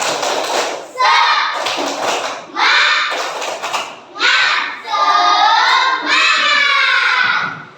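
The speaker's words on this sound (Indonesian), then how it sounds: "Tepuk semangat" Schoolchildren in an Islamic classroom perform a rhythmic spirit clap led by their teacher, loud chanted phrases broken by bursts of clapping in a repeating pattern, their voices right up close.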